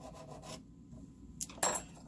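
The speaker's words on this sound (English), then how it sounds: "I'll take a finer file and clean that up a little bit," A finer hand file rasps along the spine of a Mora bushcraft knife to clean up burrs: a short scraping stroke, a quiet pause, then a louder, sharper pass near the end.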